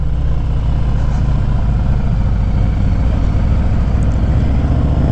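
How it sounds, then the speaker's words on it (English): A 2021 Harley-Davidson Fat Boy rumbles at speed, its exhaust a loud, continuous low-pitched drone with a steady throb, close by and unbroken for the whole stretch. "It's pretty much that classic Harley sound"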